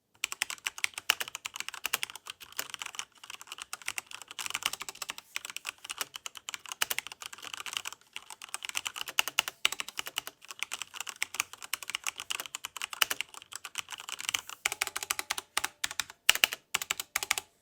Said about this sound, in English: here's just a quick sound test of how these cherry mix rich switches sound, and alongside the hybrid switches